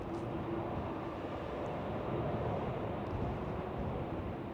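A Boeing 787 departing Schiphol for Madrid gives off a broad, steady jet roar heard from a distance, blended with gusty wind rumble against the microphone.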